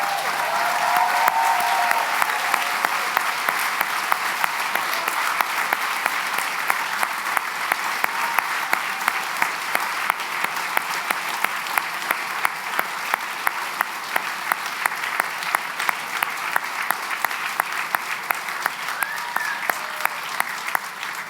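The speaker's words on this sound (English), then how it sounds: "So could you please turn around and express your gratitude one more time with a round of applause." Sustained applause from a large audience at a medical and dental school white coat ceremony, a full, dense roar of clapping that holds steady throughout with faint crowd murmur beneath.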